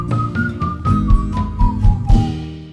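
Whistling from a track carries a clear melodic line of sustained pitched notes that step slowly downward, over a steady low musical backing at moderate volume.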